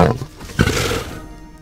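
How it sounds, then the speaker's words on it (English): A lion roars once, a loud close growling call that swells after a short grunting onset and then trails off, heard alone without talk. "So the lion makes a roaring sound."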